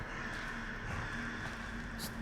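Crow-like caws from a bird in the video game Runo, a few short calls over a steady ambient game background.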